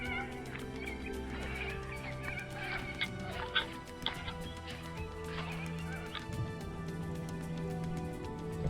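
Ducks call near a Murray River campsite at Boundary Bend, with repeated honking and quacking cries over a steady outdoor background, moderately close and no talking.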